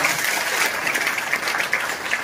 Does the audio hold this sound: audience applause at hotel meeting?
yes